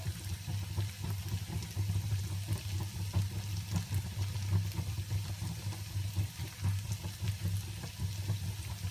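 Potato pepper fry with salt, pepper, turmeric and red chili powder sautéing in a pan: a steady, close, low sizzle and bubbling with faint stirring scrapes, continuous and without talk.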